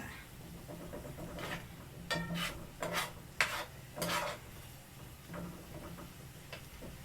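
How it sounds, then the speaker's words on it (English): Onions sauté in a seasoned pan, giving a quiet sizzle under a few sharp scraping stirs of a utensil against the pan, close and faint. "There's nothing in this pan but onions, and I done already seasoned it and seasoned up everything."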